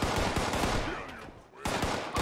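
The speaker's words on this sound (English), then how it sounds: "I hear gunshots." Gunfire in the Fallout video game, several sharp shots in quick bursts at moderate distance, mixed with game ambience and no talk.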